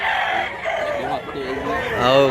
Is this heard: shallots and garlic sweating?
no